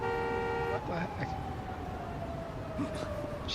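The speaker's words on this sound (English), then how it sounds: "She's still honking at me." Car horn honking in a Yakuza video game: a steady sustained tonal blast held loud for under a second, then a fainter lingering tone that fades beneath busy street ambience and background chatter.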